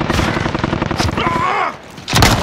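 Rapid automatic gunfire rattles loud and close in a Call of Duty Modern Warfare hardpoint match, a continuous burst of shots that pauses briefly before another volley breaks out.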